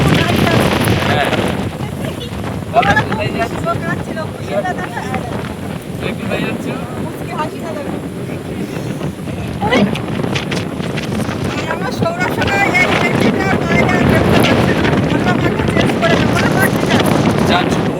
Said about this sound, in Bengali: হাওয়া হচ্ছে